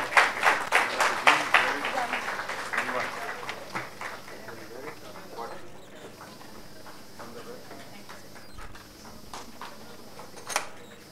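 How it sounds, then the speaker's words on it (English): An audience at an Indian Medical Heritage Day prize ceremony claps for the throwball runners-up: brisk, fairly close applause at the start that thins and fades under a speaking voice. "Please give them a loud round of applause."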